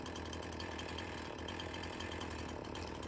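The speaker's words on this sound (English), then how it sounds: "Activate the chainsaw." Chainsaw running in Farming Simulator 19, a steady buzzing engine drone held at an even level throughout, fairly faint and uninterrupted.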